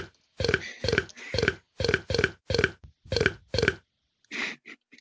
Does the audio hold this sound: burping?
yes